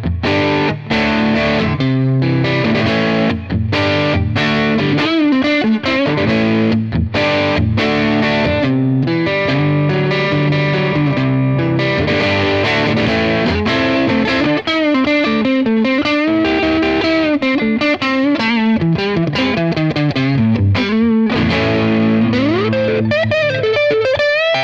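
A fully hollow ES-style Stanford Crossroad Thinline 30 electric guitar is played on its neck P90 pickup with gain, giving a continuous distorted riff of chords and single notes with no talking.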